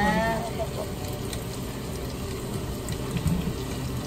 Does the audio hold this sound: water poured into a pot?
yes